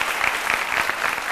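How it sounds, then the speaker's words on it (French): Short burst of audience applause from a crowd at a live French-language TV talk show, steady dense clapping filling the whole moment without speech over it. "levez-vous, applaudissez pour elle"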